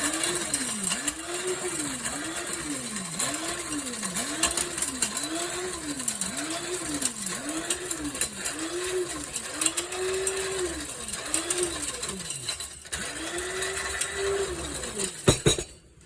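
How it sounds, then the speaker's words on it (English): An electric spice grinder whirs through whole spices for homemade biryani masala, its motor pitch rising and falling in a steady series of pulses, loud and close with rattling contents inside the jar. "And now we're going to start grinding again."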